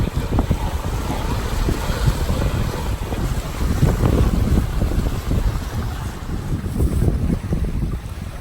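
Wind buffets the microphone aboard the sailboat SeaSprite as it gets underway southbound, with a steady gusty rush and faint wash of water against the hull throughout, no voices.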